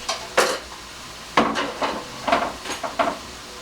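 Mushrooms and onions dropped into a pan of cooking chicken, a handful of separate clattering knocks and soft thuds of utensil on cookware over a faint sizzle, with no talking.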